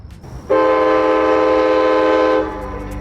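A train horn blasts loud and steady for about two seconds at Buffalo station, a rich chord of tones that cuts off sharply over low rail and station rumble.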